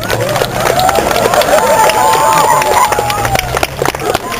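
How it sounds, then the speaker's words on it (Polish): An audience at an outdoor show in Kazimierz Dolny applauds and cheers: a dense crowd wash of clapping and shouting voices at steady loudness throughout, with a few sharper cheers rising near the middle. "Brawa!"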